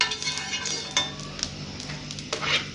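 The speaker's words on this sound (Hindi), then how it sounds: "अब मैं इसमें डालूँगी घी।" Ghee heats in a hot pan for masala bread toast, a soft steady sizzle under light clinks and scrapes of a utensil against the pan, close and fairly quiet.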